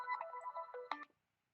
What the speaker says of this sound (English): I call Jack Frost right now